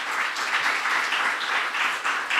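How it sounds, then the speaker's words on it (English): A conference audience at a natural gas and LNG event claps for the speakers, a steady, moderately loud wash of applause from a roomful of people lasting a couple of seconds. "They deserve your applause."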